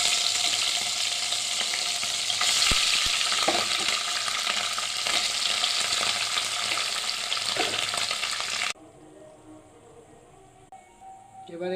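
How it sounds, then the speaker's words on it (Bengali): Paneer frying in hot white oil in a kadai, a loud continuous crackling sizzle with occasional pops that cuts off abruptly to a much quieter background near the end. "তেল গরম হয়ে গেছে, এবার এর মধ্যে পনিরগুলো ভেজে নেব"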